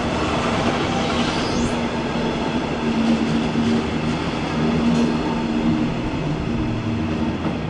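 An ICE train in blue-stripe Europe livery rolls through Köln Hbf with a loud, steady rumble, faint wheel squeals and clacks over the rails, and no voices.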